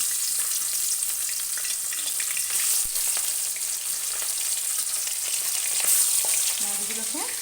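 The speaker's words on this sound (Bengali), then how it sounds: "মাছগুলোকে ভেজে নিচ্ছি" Fish fry in hot oil in a wok, giving a steady, close sizzle throughout with occasional stirring clatter and no talk.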